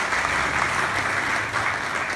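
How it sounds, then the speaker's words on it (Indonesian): Loud, dense applause from a church congregation at a GBI Rahel Christmas service, continuous clapping across the whole stretch with no voices on top. "Kita berikan tepuk tangan buat Tuhan Yesus"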